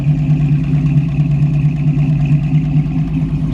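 A 1972 Chevrolet Camaro idles through its exhaust with a loud, steady, deep burble and even pulsing rhythm, close and alone without talk.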